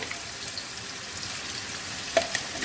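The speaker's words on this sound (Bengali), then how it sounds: "এবার আমি তেলে দিয়ে দিলাম" A paste of garlic, black cumin, green chili, salt and sugar frying in hot oil, a close, continuous sizzle broken by a couple of sharp clicks near the end.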